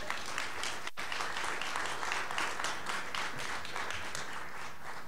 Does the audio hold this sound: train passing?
no